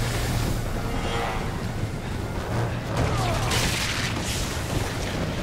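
Explosive charges detonate in Resident Evil 6, a heavy booming blast with a dense, sustained roar of debris and rumble that swells near the middle and stays loud throughout.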